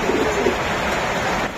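A racer pigeon coos softly and steadily, with light rain pattering throughout the short stretch and no voices.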